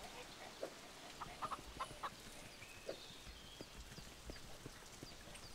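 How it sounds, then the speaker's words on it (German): A chicken in the survival video game Force of Nature clucks in short quiet bursts, with soft repeated footstep-like taps underneath, faint against a low background hiss. "Oh, da ist ein Huhn."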